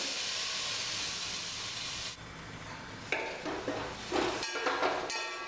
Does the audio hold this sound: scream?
no